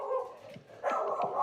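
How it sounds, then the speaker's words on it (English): A dog barks indoors a few times, short yips and woofs in quick succession at moderate distance, over a steady background hum. "Excuse my dog."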